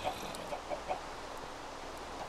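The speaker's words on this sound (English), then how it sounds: "Oh, so many chickens." Chickens in a Minecraft-style block game cluck in a few short, soft bursts scattered over steady background game ambience, fairly quiet and without talk.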